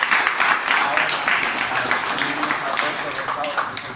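An audience at the founding event of an LGBTI multicultural association in Mallorca applauds steadily with dense, continuous clapping filling the whole stretch, loud and close, with voices mixed in.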